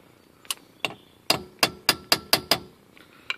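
Chisel driven under the lip of a grease cap on an axle hub of a 1967 Airstream Caravelle, heard as a run of about ten sharp metallic hammer taps, the middle strikes loud and evenly spaced, no talk.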